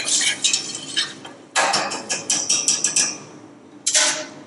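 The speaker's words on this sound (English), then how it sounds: "Just make sure you scrape the sediment off the bottom of the pan, get all that flavour in there." A metal utensil scrapes and clatters against the bottom of a pan while deglazing with fish stock, in short irregular bursts with a quieter stretch between.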